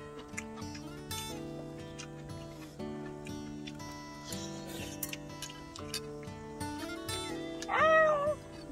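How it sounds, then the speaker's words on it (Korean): A cat gives a clear meow near the end, rising and falling, outdoors by a small farm hut at dusk, over a steady mix of background tones and faint ticking. "고양이 왔어."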